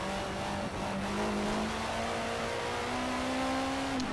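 A Ford Capri in Project CARS racing at the Nürburgring, its engine droning steadily and rising in pitch as it accelerates, with a faint tire squeal near the end and no talk.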